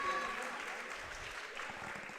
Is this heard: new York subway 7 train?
no